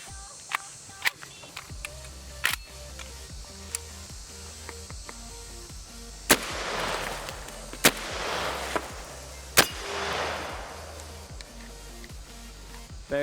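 A 12 gauge magazine-fed shotgun fires double-aught buckshot at watermelon, jug and steel targets outdoors: several sharp, loud blasts spaced a few seconds apart, the later ones followed by echoing rumbles, with quieter clicks and handling noises between shots.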